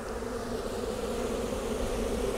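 Honey bees buzz densely around a beehive frame crowded at its edge, a steady, close, continuous hum with no voices.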